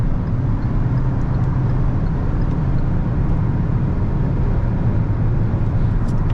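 A Kia Seltos cruising at 140 km/h in seventh gear at about 2500 rpm, heard from inside as a loud, steady drone of engine and road noise that never changes over the whole stretch.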